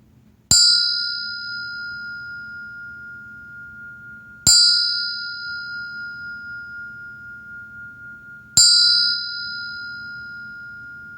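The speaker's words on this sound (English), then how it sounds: "So I'll ring the bell to conclude this little part of the practice." A meditation bell is struck three times at even intervals, each a bright clear ring that lingers and slowly fades with a gentle pulsing shimmer in a quiet room, with no talking.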